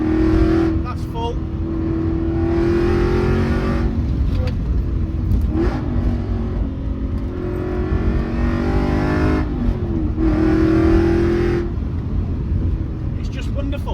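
A 2007 Aston Martin V8 Vantage with the 4.3-litre V8 accelerates hard at full throttle on a track. Its loud engine note climbs through rising revs with brief dips between gears, and a voice talks over it.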